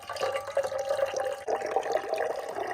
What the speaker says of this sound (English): Then we squeeze it right into our water bottle, and it's filtered and clean.